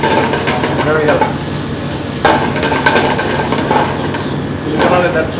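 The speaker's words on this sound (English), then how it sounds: "So we're going to let that saute for a minute or so." Minced garlic sautéing in a pan, a steady loud sizzle with occasional stirring scrapes and clinks, continuous throughout.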